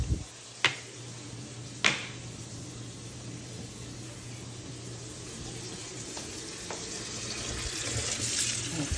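A kitchen faucet runs into the sink during dishwashing, a steady close hiss of water with two sharp clinks near the start and a slight swell toward the end.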